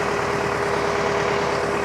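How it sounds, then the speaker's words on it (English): A John Deere 4066R compact tractor reverses for a hookup, its engine holding a steady, close idle-like drone with a constant low hum and no pauses. "the tractor is now backing on up for a very easy hookup"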